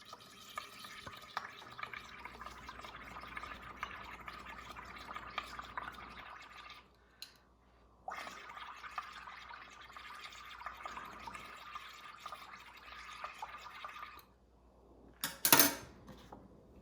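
Running water splashes into a kitchen sink over a hand, a steady broad wash of spray with two short pauses and a brief louder burst near the end.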